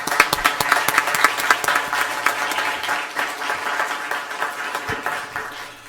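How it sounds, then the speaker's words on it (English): Audience applause at a school district governing board meeting: dense, steady clapping from many hands that holds for about six seconds at moderate loudness, with only brief traces of voices underneath. "How about a round of applause?"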